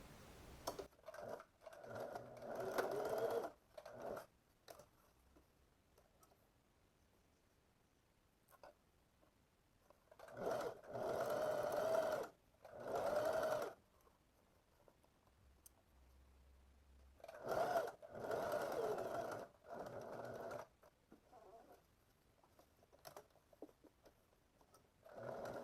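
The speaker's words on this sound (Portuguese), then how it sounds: "E vamos costurar dessa marquinha a essa." A sewing machine stitches shorts fabric in three separate bursts of fast whirring, each running a few seconds, with quiet pauses between them in an otherwise still room.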